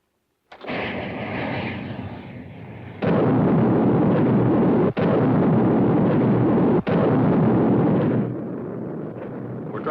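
Missile fire and explosions in a 1954 sci-fi film sound as a loud, sustained roaring rumble. It surges in several blasts with brief sharp breaks between them, then fades.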